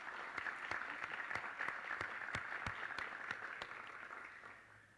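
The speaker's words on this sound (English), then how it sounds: "I would like to give a round of applause to Dr. Janessa Kilgore-Bowling for her leadership of the program" Applause at a 2022 social work pinning ceremony honoring Dr. Janessa Kilgore-Bowling: a small audience claps steadily at moderate distance, a soft patter of hands that fades slightly toward the end.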